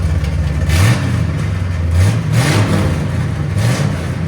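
A 1970 Chevy Chevelle SS 454 big block V8 with headers and straight pipe exhaust revs hard and close in three loud, swelling bursts over a deep, rough idle.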